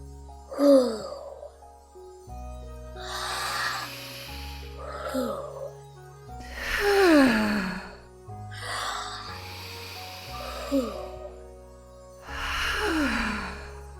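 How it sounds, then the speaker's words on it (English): Slow, deliberate deep breathing, drawn-out inhales and sighing exhales repeating about every two to three seconds over soft background music, close and clear. "Deep breaths, like this."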